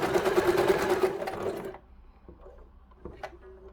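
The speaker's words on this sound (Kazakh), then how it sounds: "Сөйтіп, мына сызықпен тегістеп тігіп шығамыз." A sewing machine stitches fabric in a rapid, even mechanical whir for under two seconds, then stops, leaving a few faint clicks and handling knocks.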